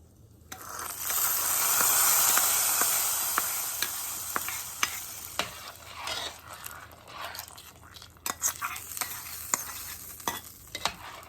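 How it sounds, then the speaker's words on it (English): Hot oil sizzles loudly as spice tempering hits a pan of sambar, then the hiss fades under scattered clinks and scrapes of stirring. "now I'm going to add this tempering in the sambar"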